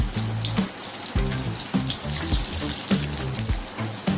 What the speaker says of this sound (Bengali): এইভাবে কুমড়ো ফুলের বড়াগুলো ভেজে